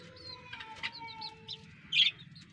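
Black hens in a coop give short clucks and chirpy calls over a steady background murmur, with one sharper, louder squawk near the end.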